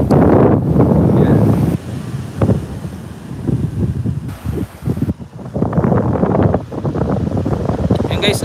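Strong gusting wind off the sea buffets the microphone in heavy bursts during a typhoon in a coastal area of Camarines Sur, Philippines, with the rush of the sea beneath and brief lulls between gusts.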